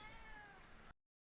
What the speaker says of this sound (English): I'm not sure if you can hear my cat talking behind me.